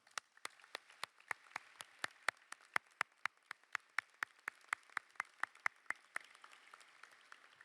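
A graduation audience at a pharmacy school ceremony claps for their supporters, a steady, sparse run of single sharp claps at a moderate distance, evenly spaced and fairly faint, with no talk over it.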